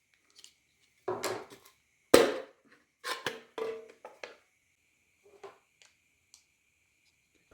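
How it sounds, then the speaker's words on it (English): Several crisp, scratchy scissor cuts snip through a thin aluminum soda can in short bursts, close by, separated by pauses, with a faint steady background hum. "Just going to cut this with the scissors."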